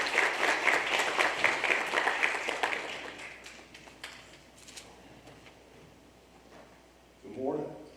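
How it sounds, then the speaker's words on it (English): Church congregation applauds to welcome a speaker on a Sunday morning, a lively burst of many hands that fades out over a few seconds, leaving a quiet room before a voice and a little movement near the end. "Give him a nice round of applause"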